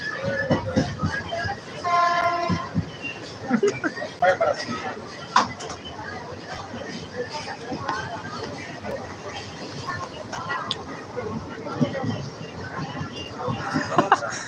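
Train noise runs throughout, with a horn-like tonal blast near the start and steady rumbling beneath people talking.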